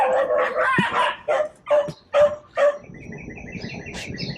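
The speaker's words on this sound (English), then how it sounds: "Oh, crazy dogs." Dogs near a camper at a campsite let out a run of five loud, sharp barks in close succession, followed by quieter yips and chirpy bird-like calls under low background noise.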